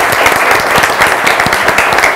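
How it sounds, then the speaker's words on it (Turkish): A studio audience at a televised word quiz show claps for the week's champion, loud, close and continuous applause with a steady, packed texture throughout. "Hadi şampiyonumuza bir alkış."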